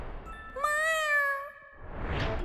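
A cartoon cat lets out one clear, drawn-out meow, close and prominent against a quiet background, followed by a brief soft rustle.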